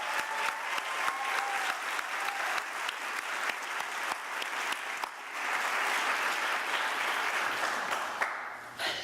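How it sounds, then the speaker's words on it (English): A graduation-ceremony audience applauds a keynote honoree with steady, dense clapping that holds for several seconds, swells a little louder in the middle and then begins to thin out near the end. "Let's all give him a big round of applause."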